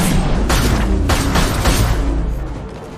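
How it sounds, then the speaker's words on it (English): A flashbang in the Mass Effect video game goes off as a loud, dense boom with a sustained rumbling wash, alone and close, tailing off toward the end. "Watch out! Flashbangs!"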